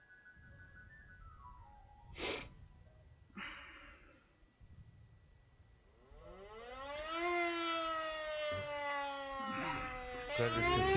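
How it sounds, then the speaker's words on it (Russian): An air raid siren in the World War I flight game Rise of Flight rises into a loud, sustained wail with harmonic sweeps, after a few soft breaths and snorts in the first seconds. "Кажется, сирена воет"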